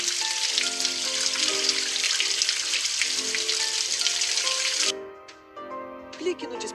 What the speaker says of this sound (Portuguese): Vamos passar as patinhas dos filhotes na água para...